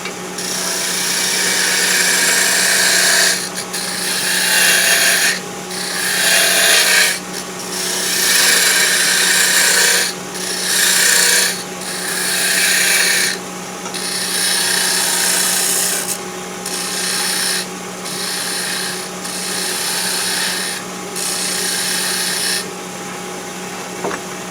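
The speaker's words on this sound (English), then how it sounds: "I'll just take my parting tool, define my beads" A parting tool cuts beads into a wooden peppermill spinning on a lathe, giving a loud scraping hiss in repeated bursts over a steady motor hum, with short pauses between cuts.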